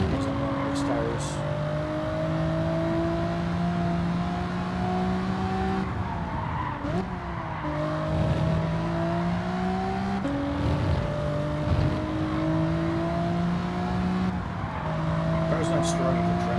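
A Nissan 300ZX and a GTR V6 Nismo Spec race through a corner, the engines droning loudly and climbing in pitch through gear changes while tires squeal, with a voice talking over the steady roar.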